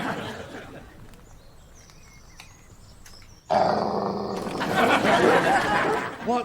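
Strange dogs growl, faint and low at first, then a louder rough rumble takes over midway and continues to the end.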